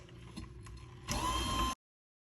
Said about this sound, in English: we're going to mix that with a mixer until combined